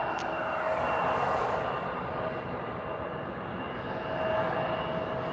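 A CRJ 900 regional jet lines up on the runway at Stockholm Arlanda Airport, with a steady, fairly loud engine roar and whine holding throughout, heard from a distance.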